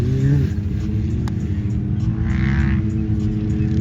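A Pro EFI Pro R turbo UTV running pump gas drones loudly and steadily as it accelerates from a rolling start, a continuous engine roar close by with no voices.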